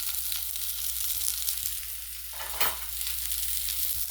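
Baby zucchini sautéing in olive oil over high heat, a steady bright sizzle throughout with a couple of stirring swells midway, no talk.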